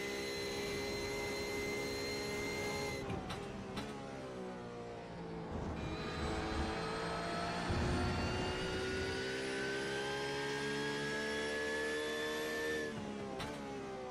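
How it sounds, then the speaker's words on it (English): A Porsche race car engine in a sim racing game at Road America holds a loud, sustained high-revving whine with rising harmonic pitch, then drops and climbs again through shifts, heard from on board with no voices. "Let's ride on board the 70 and enjoy the sights and sounds of the Porsche at Road America."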